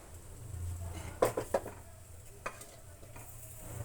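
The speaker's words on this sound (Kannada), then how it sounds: "ಈಗ ನಾವು ರಾಗಿ ಹಸಿಟ್ಟನ್ನು ಹಾಕಿ ಕಲ್ಕೋಣ" Ragi flour is stirred into boiling water in a pot. A few quick scraping stir strokes and clicks stand out over a faint steady bubbling hiss, quiet and close.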